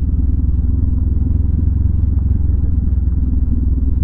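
Heavy motorcycle engine running while riding along a road near the bridge linking Alabat Island and mainland Quezon, a loud, steady, close rumble with a fast, even pulse and no talk.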